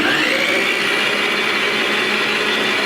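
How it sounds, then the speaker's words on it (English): An electric kitchen stand mixer runs at a steady speed while making muffin batter, producing a loud, continuous whirring drone with no breaks. "We'll turn on the mixer and let that go around."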